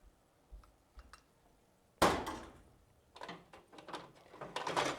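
A drawer on a three-tier Sears Craftsman toolbox in a barn is pulled open with a sharp metallic rattle and slide. A few faint clicks come first, then more clattering of tools shifting inside the drawer.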